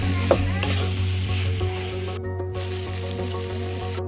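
Potatoes with their skins dropped into a pan of fried spice paste, a constant crackling sizzle with a few clinks and stirring scrapes, under a steady hum.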